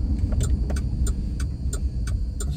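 A car drives along a city street at night in Chattanooga, Tennessee, its low engine rumble steady and fairly close, broken by a regular series of short clicking ticks.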